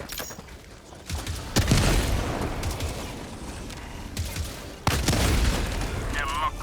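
Enemy gunfire sounds in a video game as sharp, booming shots that burst in at irregular moments, set against a dense game soundscape that keeps going between the shots.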